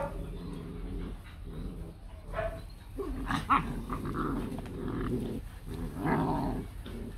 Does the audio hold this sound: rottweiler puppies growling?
yes